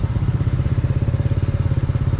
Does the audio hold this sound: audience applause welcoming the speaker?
no